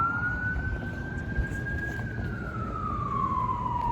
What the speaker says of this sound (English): I hear sirens somewhere.